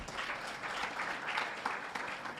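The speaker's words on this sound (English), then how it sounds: "And I think we can clap for all of us." Conference audience applauding at a multistakeholder meeting, a steady dense wash of clapping from many hands that carries on without break, moderately loud and fairly close.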